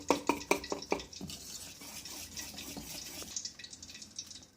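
A whisk beats boondi laddu batter in a bowl, opening with a quick run of close, rhythmic wet taps that then give way to a softer, continuous swishing churn, with no talking.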